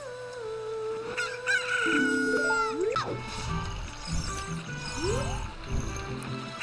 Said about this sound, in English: Have a chicken on your head.